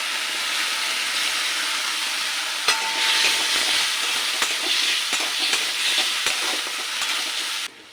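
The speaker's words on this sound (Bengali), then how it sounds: "মশলাটাকে ভেজে নেব 2-3 মিনিটের মতো।" Spices with ginger paste, bay leaf, cumin, tomato, turmeric, salt and chilli powder frying in a pan for vegetarian pumpkin curry, a steady close hiss of sizzling with occasional stirring clicks throughout.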